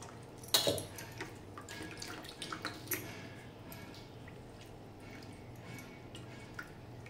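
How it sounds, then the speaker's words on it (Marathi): Coriander leaves being washed in water make soft, close splashes and drips, with one sharper splash near the start and quieter squishing afterward. "त्याच्यापेक्षा थोडी कमी कोथिंबीर घ्यायची. स्वच्छ अशी धुवून घ्यायची."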